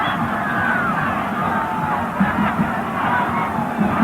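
A stadium crowd at a 1993 US Cup soccer match between the United States and Brazil roars continuously with dense cheering and shouting, loud and sustained, with whoops rising from the mass of voices.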